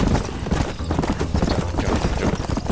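Horse hooves gallop in the Red Dead Redemption video game in a fast, steady clip-clop rhythm that is loud and continuous, with a faint whinny.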